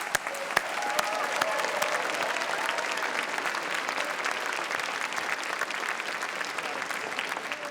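Sustained, dense applause fills a hall at a university graduation ceremony, a large audience clapping steadily and evenly throughout without pause.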